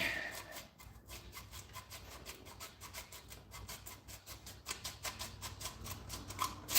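A motorbike part is hand-sanded with a single orbital sander pad, making a steady, close scratchy rubbing with rhythmic strokes throughout, alone without talk.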